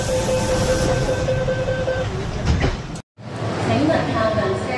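An MTR train in Hong Kong closes its doors, a steady rumble of the idling carriage and a chime tone giving way to a brief hard thud and a sudden cut, then the train noise resumes.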